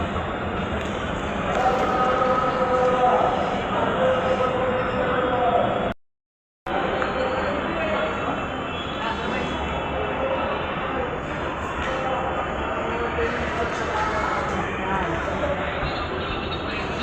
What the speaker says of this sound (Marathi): आता आम्ही मेट्रोने जाणार आहोत दगडूशेठ हलवाई मंदिराला